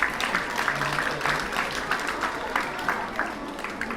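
Many hands clap for a student at a school spelling bee for third and fourth graders, a steady, moderately distant round of applause that holds evenly for several seconds.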